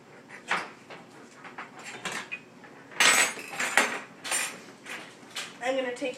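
A frying pan set down on a kitchen stove gives a series of metallic clanks and scrapes, irregular and close, with cookware rattling between the louder knocks.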